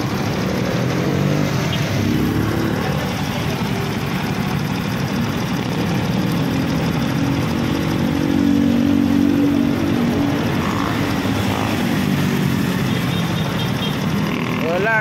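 Honda NS125 fuel-injected motorcycle with a loss-of-power fault, its engine running and revving steadily nearby under a constant mechanical drone, with voices talking over it throughout.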